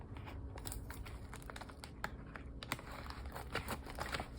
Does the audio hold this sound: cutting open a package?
yes